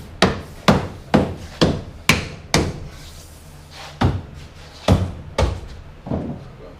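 Rivets being set into trim on a boat's transom cover, a close series of about ten sharp, evenly spaced metallic knocks, each ringing briefly, some louder than others.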